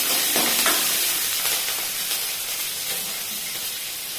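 Green chillies hit hot tempering oil already holding mustard seeds and urad dal, producing a continuous bright sizzle and hiss with faint stirring scrapes that slowly settles, heard close up with no talking.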